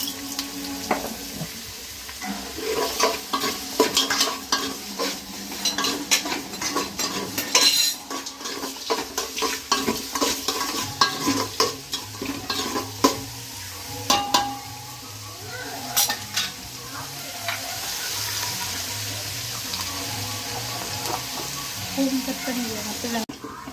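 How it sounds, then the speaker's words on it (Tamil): Onions and green chillies sautéing with salt in a pan for country chicken biryani, a continuous sizzle under frequent metal spoon clanks and stirring scrapes, with a voice talking over parts of it. "வெங்காயம் நல்லா இது பாருங்க பொன்னிறமா வதங்கிடுச்சு"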